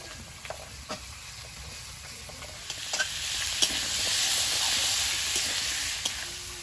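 Spinach stalks with turmeric powder sizzle steadily in a hot pan, a continuous frying hiss broken by occasional scrapes and knocks of a spoon stirring, close and fairly loud with no talking.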